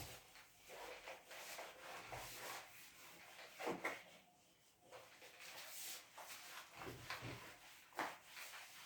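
A board eraser rubs out writing on a lecture board in a classroom, giving faint, repeated scrubbing strokes with a few sharper scrapes and short pauses between them.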